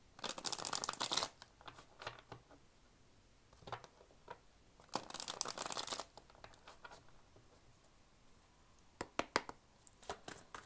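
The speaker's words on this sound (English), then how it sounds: "now let me shuffle and see what I have for my Capricorns." Tarot cards being shuffled by hand in several close, crisp bursts of riffling and flicking, separated by quieter pauses.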